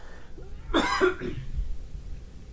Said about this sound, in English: me clearing my throat in this is so annoying